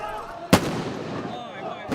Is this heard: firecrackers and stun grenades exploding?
yes